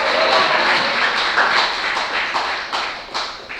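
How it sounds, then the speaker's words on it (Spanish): Church congregation clapping together during a Spanish-language worship service, a loud continuous patter of many hands that gradually thins and fades toward the end. "Vamos a darle un aplauso al Señor que nos ha llamado a la vida eterna."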